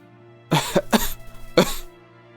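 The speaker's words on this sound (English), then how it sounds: "Father was coughing pretty badly" Three sharp coughs in quick succession over a faint steady background hum, close and fairly loud, from the visual novel game Umineko When They Cry.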